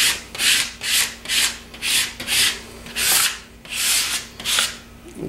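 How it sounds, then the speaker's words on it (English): Firm, repeated rubbing strokes press a large wall decal's transfer tape down, each pass a rhythmic scraping swish about half a second long, close and clear with about nine strokes in steady succession. "we just want to rub that down real good"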